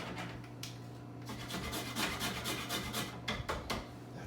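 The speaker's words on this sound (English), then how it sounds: "we're going to put our freshly grated nutmeg" Whole nutmeg is scraped against a grater in steady rasping strokes, close and fairly quiet, with a faint low hum underneath and a few sharper scrapes near the end.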